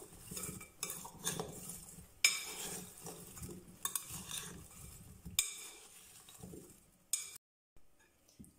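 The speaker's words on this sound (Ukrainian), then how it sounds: "І ретельно все перемішуємо." Metal utensils scrape and clink against a pan while stirring potatoes with seasoning in a steady rhythm, with soft shuffling of food between strokes, close by and without speech.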